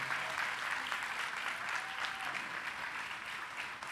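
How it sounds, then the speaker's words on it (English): Steady applause from a conference audience fills four seconds, a dense even clatter of many hands at moderate distance, fairly quiet and without voices. "Clap for them, please."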